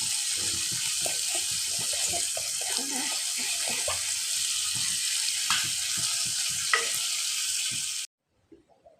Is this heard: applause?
no